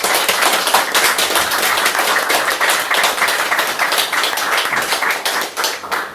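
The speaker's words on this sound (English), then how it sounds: "Let's give her another round of applause." Applause for a poet at an open-mic poetry night in Limerick, a modest audience clapping steadily and close by for several seconds with no talk.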